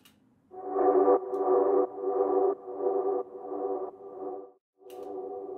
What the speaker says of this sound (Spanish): Aquí está la reverb.